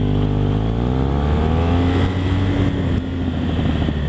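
A BMW RS1200 boxer-twin motorcycle engine fitted with an aftermarket exhaust can runs steadily and loudly throughout, a deep throbbing drone with shifting harmonics as revs rise and dip slightly, close by with no talk.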